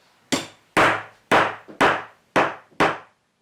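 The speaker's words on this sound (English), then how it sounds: "and of course a fantastic woodpecker hammer" A wooden toy woodpecker hammer from a Tender Leaf Toys tap-tap tool box strikes six sharp, loud, evenly spaced knocks, each a crisp woody clack with a short decay, alone with no talk.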